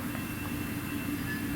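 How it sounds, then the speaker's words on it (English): Train rolling past at a steady, heavy rumble with a faint high tonal whine, constant and fairly close, with no voices over it. "Nope, another train."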